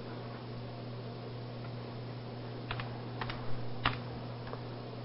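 Typing on a worn computer keyboard gives a few sparse, faint key clicks over a steady electrical hum and background hiss, with no talk.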